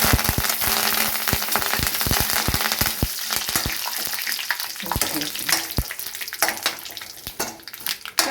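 Curry leaves fry in hot oil, a dense loud sizzle punctuated by a rapid series of sharp pops and crackles early on that thin out as the frying settles.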